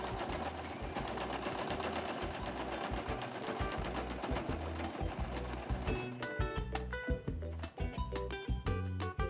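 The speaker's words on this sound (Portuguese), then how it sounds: "Agora vai passar uma costurinha? Vamos passar costurinha. Em cada um deles." A sewing machine stitches small pockets with fast, even rhythmic needle clatter, close and continuous, its pace shifting and stuttering in the last few seconds; no speech.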